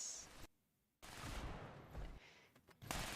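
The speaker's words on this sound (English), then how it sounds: "Explosions." Loud bursts of gunfire and explosions from the online game Fallout 76, a brief gap of quiet breaking a rough, crackling barrage that returns heavy and close.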